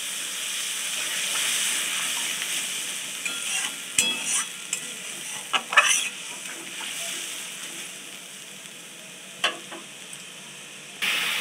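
Water poured into mustard masala frying in a pan gives a steady close sizzle with stirring and a few scraping clinks, and no talk.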